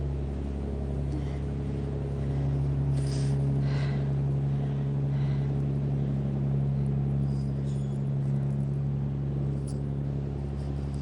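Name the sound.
barge engine rumbling as it passes by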